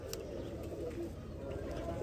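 Pigeons kept by a breeder, giving soft low cooing under a steady background hum, fairly faint with a few brief higher chirps.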